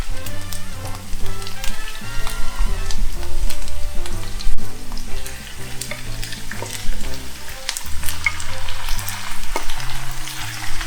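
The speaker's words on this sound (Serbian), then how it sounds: "Spajam meso sa prženim lukom." Minced meat fries with onion in a pan while being stirred, giving a loud, continuous sizzle with scraping strokes, set against quiet background music.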